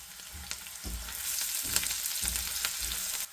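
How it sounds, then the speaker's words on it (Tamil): Onions, curry leaves, cinnamon sticks and sliced green chilies sizzle steadily in a frying pan for a Sri Lankan runner beans stir fry, a continuous close hiss with a few louder crackling bursts and stirring scrapes. "So we're going to let this pan fry for a bit."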